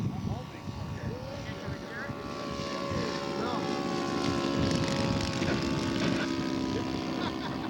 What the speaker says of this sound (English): This is Joe Topper's touch and go on the Fokker D7